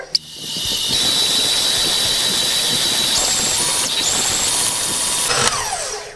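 An electric mixer whirs steadily at low speed, beating egg yolks and sugar for a layered cake. The close, continuous motor whine shifts pitch slightly partway through, and the mixer switches off near the end.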